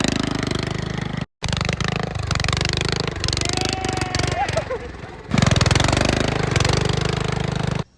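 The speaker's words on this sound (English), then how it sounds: "I will be putting some clips of the mower popping wheelies with the" Engine of a home-built racing lawn mower fitted with a wheelie bar, running while it pops wheelies. A loud, buzzing mid-pitched engine runs steadily, cuts out for a moment early on, then roars louder toward the end.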